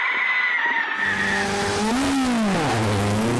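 A rally car on a stage of the Irish National Rally Championship Midland Stages roars past close and loud, its engine note climbing, dipping and climbing again over a broad wash of tyre and gravel noise.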